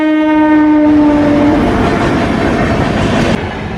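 At a railway crossing, a train horn blares loud and sustained, then gives way to the heavy rumble and clatter of the train rolling past close by.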